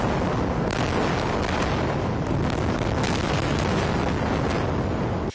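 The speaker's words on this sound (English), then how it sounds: "explosions lighting up the night sky" Explosions from airstrikes on a Gaza refugee camp at night make a loud, dense, continuous roar with repeated sharper bursts, heard alone without talking until it cuts off at the end.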